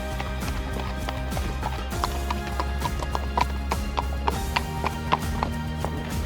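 Horse hooves clip-clopping steadily on an Alpine trail during a horseback trek, a brisk rhythmic run of hoof strikes close by over a constant background hum.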